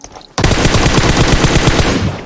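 Automatic gunfire in PUBG Mobile bursts in abruptly after a quiet moment, a rapid, loud, rhythmic string of shots that runs on steadily to the end.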